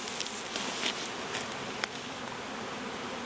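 A bee swarm hums in a steady, faint outdoor buzz, with occasional louder passes of individual bees near the microphone and one brief sharp tap.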